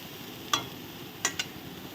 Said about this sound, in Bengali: দিয়ে এখন আমি ভালো করে কষিয়ে নেব, বেশ সুন্দর করে কষিয়ে নেব।